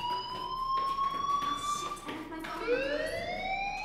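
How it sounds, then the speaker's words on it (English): A school fire alarm blares in the video game Life Is Strange, a sustained electronic siren tone that slides in pitch and swells again, loud and continuous with faint talk beneath. "do you hear that fire alarm?"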